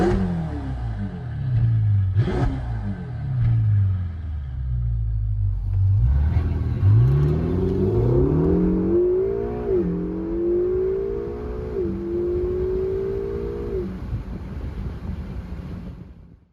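A 2015 Ferrari California T with a twin-turbocharged V8 engine revving: a deep rumbling idle rises into several loud, rising revs that hold and step up before dropping away at the end, recorded close and outdoors with some wind.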